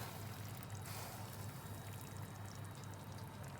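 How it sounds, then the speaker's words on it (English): Water is poured gently around the edges of a Moroccan sardine tajine, giving a steady, continuous close-up trickle and splash with no talking. "so we just pour it from like the sides"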